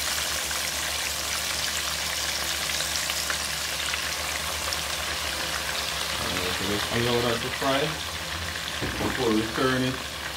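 Steady crackling sizzle of red snapper frying in oil throughout, with a voice talking over it in the second half.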